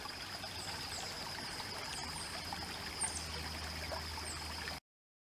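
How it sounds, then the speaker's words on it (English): A small creek trickles steadily through the woods at Riverside Preserve in Fauquier County, Virginia, a soft, continuous babble with faint bird chirps above, ending abruptly. "Following a little creek here."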